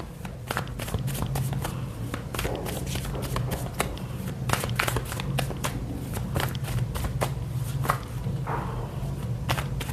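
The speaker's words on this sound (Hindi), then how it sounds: "सो मैं कार्ड्स को निकालती हूँ।" Tarot cards are shuffled and drawn with a steady run of quick flicking, tapping and riffling sounds close by, continuous over a low background hum.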